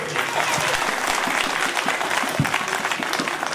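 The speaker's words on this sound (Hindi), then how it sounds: "तो सब जोरदार ताली बजाएंगे परमेश्वर के लिए।" A church congregation at a Christmas celebration claps loudly and steadily, dense sustained applause filling the room, with faint voices mixed in.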